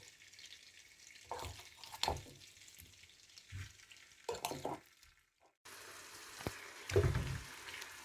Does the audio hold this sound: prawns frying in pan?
yes